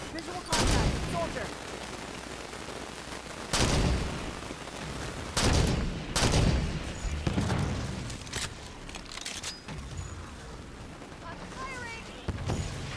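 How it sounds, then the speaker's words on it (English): Rapid bursts of gunfire in the Halo 5 campaign, with loud blasts and volleys repeating across the scene at irregular intervals. Chatter and game noise fill the gaps between them. "Stop fucking shooting him so I can shoot him, damn it"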